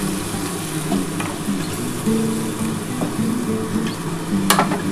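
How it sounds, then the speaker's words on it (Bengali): Water splashed into a pan of frying Bengali aloo posto potatoes sets off a steady, close sizzle and bubbling that carries on evenly, with no voices over it. "আমি অল্প একটু জল দিয়ে দিলাম।"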